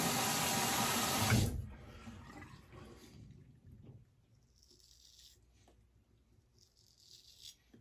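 Tap water runs to rinse shaving soap: a loud rushing stream at first that cuts off after about a second and a half, followed by quieter trickling and dripping with a few faint splashes.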